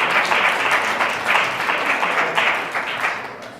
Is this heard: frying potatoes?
no